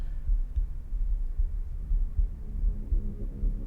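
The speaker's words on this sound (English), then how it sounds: "there is this cosmic heartbeat almost that you hear" Deep, low cosmic heartbeat throbbing steadily in a slow pulse under a constant dark hum, moderately loud and without speech.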